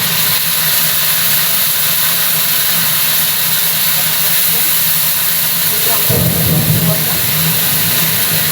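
Half a spoon of ginger paste hits hot oil already tempered with dried chilli, cumin and bay leaf, giving a loud, steady, close sizzle with a soft low thump partway through.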